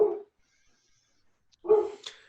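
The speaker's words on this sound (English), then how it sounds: "Now my dog's freaking out." A dog gives two short, close barks separated by a pause, the second trailing into a higher whimpering yip.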